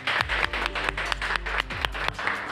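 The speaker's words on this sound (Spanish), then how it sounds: "Así que un aplauso para todas." Applause for pageant contestants during a Miss Model Chile class session, a steady patter of clapping from a small group with sharp individual claps standing out, fairly close and without speech.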